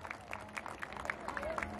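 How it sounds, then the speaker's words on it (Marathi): An audience applauds at a tribal community cultural gathering and felicitation ceremony. The crowd clapping is fairly faint and continuous, with scattered sharp claps and murmuring voices mixed in. "सगळ्याला जोरदार टाळी वाजवा"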